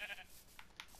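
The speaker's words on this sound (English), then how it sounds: "Why am I killing sheep when I'm hungry?" A sheep bleats in a survival video game, a short nasal cry followed by a couple of brief faint bleats, quiet and somewhat muffled with no talking.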